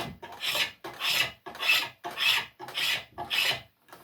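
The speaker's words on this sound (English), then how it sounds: "I'm just quickly going over this area with my spokeshave" Spokeshave shaving wood while shaping a chair part, seven even rasping strokes in a steady back-and-forth rhythm, close and clear with short pauses between passes.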